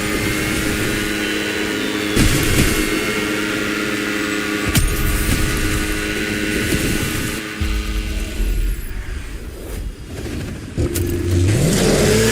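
A Lamborghini in The Crew Motorfest, engine roaring loud and continuous as it revs and accelerates, with shifts in pitch through the run and no talking.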